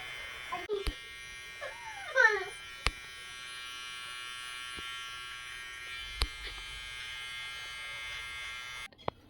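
Electric facial hair trimmer humming steadily at close range as it cuts hair on a face, a continuous thin buzz with a few clicks and brief sounds over it, no clear talk.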